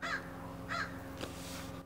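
A crow caws twice, evenly spaced harsh calls from a moderate distance, followed by a faint brief knock.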